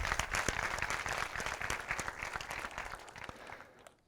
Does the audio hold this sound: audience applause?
yes